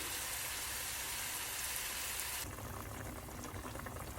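Fish set to cook in a pot over a home stove, giving a steady, close hiss and bubbling sizzle that runs the whole time and softens a little partway through, with no talking.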